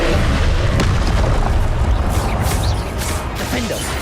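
A Confringo fire spell in Hogwarts Legacy goes off with a loud, booming blast and crackling burst. The roar stays dense for about four seconds, with game noise and a voice speaking over it.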